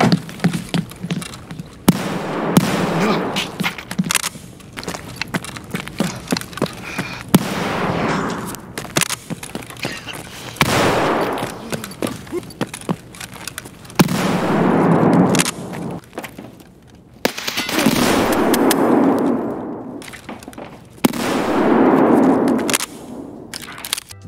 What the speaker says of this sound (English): you can turn on the double tap option and shoot both barrels at the same time